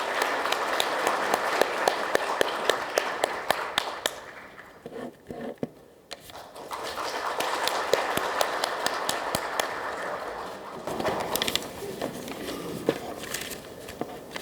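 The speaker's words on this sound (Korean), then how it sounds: "박수로 모셔보겠습니다." An audience claps to welcome a speaker at a 2024 fire industry policy briefing ceremony. Sustained clapping fills the hall, briefly thins midway, then swells again, with footsteps and light taps mixed in.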